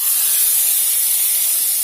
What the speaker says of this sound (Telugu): ఇప్పుడు దీన్ని మనం పప్పులోకి వేసుకోవాలి